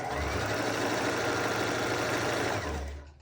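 A sewing machine stitches a ribbon anklet in one steady, rapid whirring run that slows and stops near the end, close up and alone.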